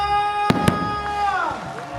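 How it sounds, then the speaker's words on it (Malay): Two sharp firework bangs in quick succession, loud and close, over a sustained musical tone and faint crowd noise, at a Hari Raya feast in Kampung Sijangkang. "Wow, barulah gaya kalau ada bunga api."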